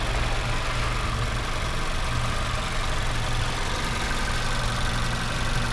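A 2018 Mazda3 Grand Touring, front-wheel drive, idles with a smooth, even low hum, steady throughout and heard up close with no talking.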